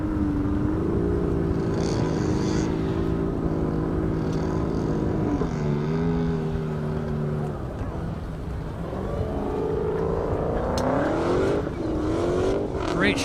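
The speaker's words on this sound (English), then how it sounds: "Here comes Ashley in the McLaren." A McLaren car accelerates down a half-mile airstrip during a 200-plus mph top-speed event, its engine note climbing through gears from a distance, then rising again in pitch toward the end, with background talk.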